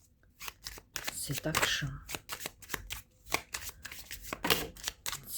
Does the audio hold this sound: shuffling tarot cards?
yes